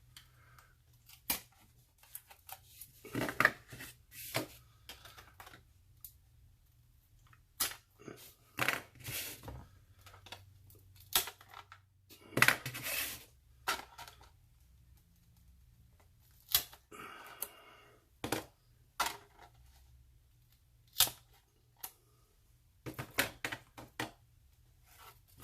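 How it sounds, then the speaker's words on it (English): Small stick-on weights are peeled off an SCX24 RC crawler, giving sharp, irregular clicks, snaps and light scrapes. The sounds are close and quiet, with pauses of near silence between them. "So I'm going to have to peel some weights off of this"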